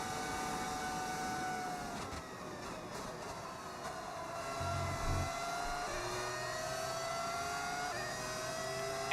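A Formula 1 race car in the F1 26 video game, fitted with a modded engine sound, holds a sustained high-pitched whine with shifting revs and gear changes, steady and fairly loud with no talk over it.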